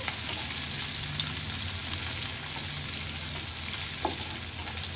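A single onion sautéing in a pan for a pepper prawn gravy, giving a soft, even sizzle that runs unbroken and fairly quiet, with only a faint stir or two near the end.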